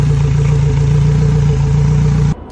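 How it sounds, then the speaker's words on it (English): A Yamaha outboard motor idles steadily with a low, even droning hum and faint clatter, running close by until it cuts off abruptly near the end. "The outboard motor is running."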